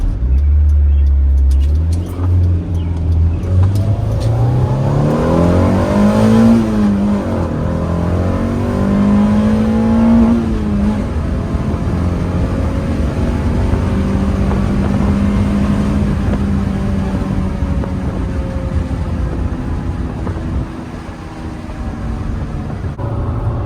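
An engine-swapped Acura Integra hums steadily while driving, rising in pitch as it accelerates and then holding a moderate, fairly quiet drone.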